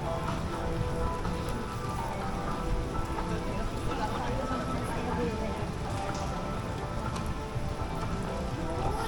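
Steady rain pours down in a dense, constant hiss with occasional heavier drips, continuous and fairly close throughout, at Universal Studios Hollywood.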